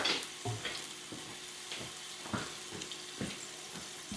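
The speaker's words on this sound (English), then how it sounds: "So we're just going to go ahead and stir it around a little bit." A pot of Filipino arroz caldo sizzles steadily while a spoon stirs through it, with soft scraping strokes and bubbling frying noise close up, no voices.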